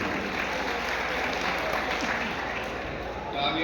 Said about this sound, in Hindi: आप हज़रात जोरदार ताली से इनका इस्तकबाल कीजिए